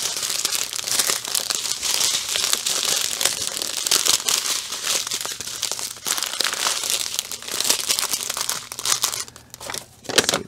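Diamond painting kit crinkling steadily as it is folded and pressed back into its plastic pack, a close, continuous rustle and crackle throughout with no talk.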